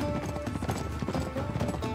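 Horse hooves clip-clop in a quick, uneven rhythm while a rider travels in Uncharted 3, steady and fairly close over two seconds with no speech.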